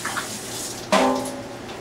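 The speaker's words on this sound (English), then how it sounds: "We're going to add about 3/4 cup of water in the tray to stop the burning." About three quarters of a cup of water poured into a pumpkin roasting tray, a short close splash and pour that starts suddenly and trails off over under a second.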